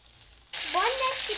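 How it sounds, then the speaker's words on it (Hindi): Boneless chicken dropped into hot oil in a kadai, with a sudden loud sizzle bursting up after a quiet moment and holding steady, with a faint tonal squeal over it. "चिकन हमारा फ्राई हो रहा है।"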